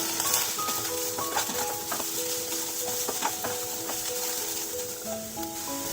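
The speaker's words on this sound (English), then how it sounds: "Once the oil is hot, add the onions. Saute them for 2 minutes." Onions sautéing in a small amount of hot oil in a pan for a pizza topping, a quiet steady sizzle with faint stirring and utensil clinks, no voices.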